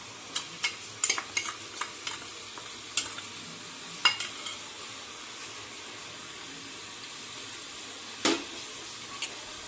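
Cabbage fries with spice masala in a pan, a steady sizzle running throughout beneath scattered sharp clicks and scrapes from stirring.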